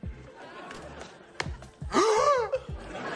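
A sharp, dramatic gasp from the Royal Gasper in the TV show Knight Squad, a sudden loud intake of breath among short breathy sounds.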